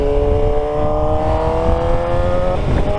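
Superbike motorcycle ridden along Sheikh Zayed Road in Dubai, its engine holding a steady high-pitched whine under heavy wind rush, loud and close, rising slightly near the end with no voices.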